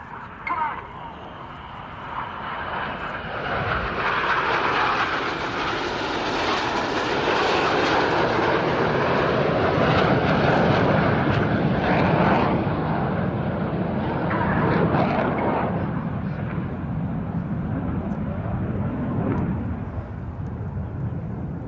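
Red Arrows RAF display jets flying rollback manoeuvres in formation at an airshow, a loud sustained jet roar swelling and fading across the sky, with an announcer talking over it.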